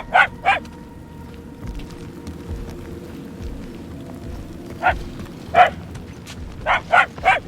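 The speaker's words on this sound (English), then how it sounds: "The barks are getting louder, at least." Dogs bark in the Guardians of the Galaxy video game, several loud sharp barks in bursts at the start and again near the end over a low rumbling background.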